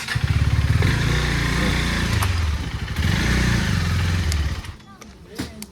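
A motorcycle engine runs close by, a loud steady low throb that surges a couple of times and then drops away near the end; voices can be heard faintly over it.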